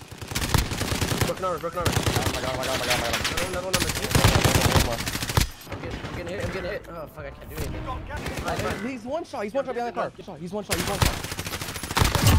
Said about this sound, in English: People shooting at us from a distance